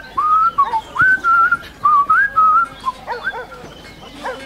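A person whistles a light, wandering tune close up, several short melodic phrases with brief pauses, fading into quieter rustling at the end.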